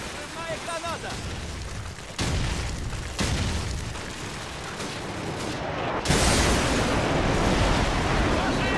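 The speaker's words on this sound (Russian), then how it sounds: "Взрывная граната!" A grenade blast goes off in Call of Duty 4: Modern Warfare multiplayer, a loud booming burst standing out among other sharp impacts and gunfire, with game announcer voices around it.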